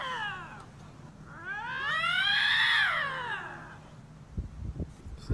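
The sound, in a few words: bobcat caterwauling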